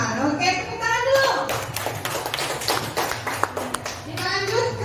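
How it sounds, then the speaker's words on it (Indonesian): Pupils in a classroom workshop break into clapping on cue, a rapid patter of many hands mingling with children's voices and talk. "Oke, tepuk tangan dulu."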